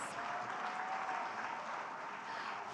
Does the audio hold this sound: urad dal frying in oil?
no